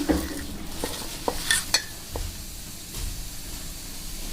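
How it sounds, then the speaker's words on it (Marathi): Soybean and potato pieces being stirred with salt and turmeric, scattered clinks and scrapes of a spoon against a metal bowl, a few sharp taps standing out over a soft background hiss, no talking. "आता आपल्याला हे सगळं मिक्स करून घ्यायचं याला हळद मीठ बराबर लागलं पाहिजे"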